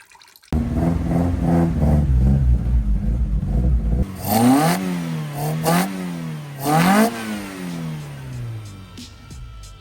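A Toyota Corolla engine drones steadily under load, then revs rise and fall in three loud sweeps as the car shifts through gears, close and clear with no talk.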